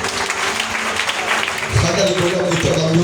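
A church congregation applauds together after a scripture reading, a steady wash of clapping from many hands throughout, while a voice speaks over it.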